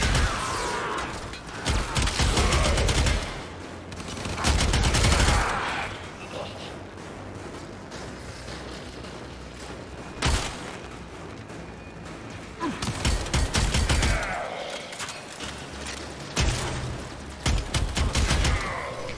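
Twin Kohmak shotgun-pistols firing in Warframe against a platoon of Grenier Marines, loud rapid bursts of blasts in several clusters with brief pauses between volleys, combat effects filling the gaps.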